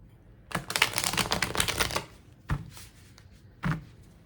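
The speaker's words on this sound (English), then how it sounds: "let me shuffle these cards." Tarot cards being shuffled close up, with a dense run of quick riffling flutters for about a second and a half, then two separate short snaps as the deck is squared or cut; no talking.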